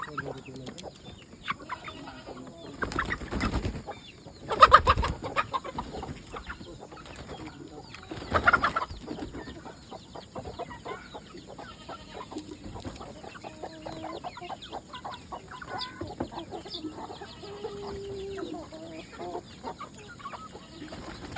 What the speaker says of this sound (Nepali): ए पोल्ट्री फार्म बस्ती कुखुरा फार्म